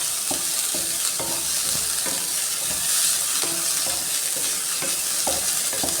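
Onions sautéed in a pan until maroon brown, with a steady close sizzle broken by regular spatula scrapes and stirs.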